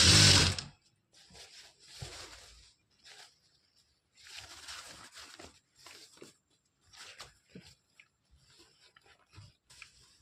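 A sewing machine stitches a fall along the edge of a saree, opening with a loud close burst and then running in short, irregular spurts separated by pauses.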